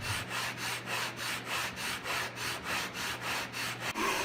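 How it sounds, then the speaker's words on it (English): A wooden box lid of wenge and birdseye maple is rubbed back and forth on a large homemade sandpaper block, giving a steady rhythm of about eight close, raspy strokes with no talking. "This is a great big sanding block I made."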